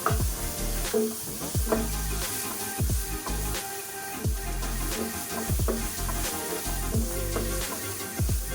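Ginger sautéing in hot oil in a pan, with a constant crackling sizzle and regular scraping stirs of a spatula every second or so, close by and without talk.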